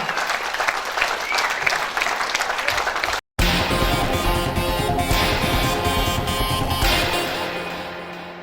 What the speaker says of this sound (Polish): Proszę bardzo, gromkie brawa, laska pasterska została przekazana.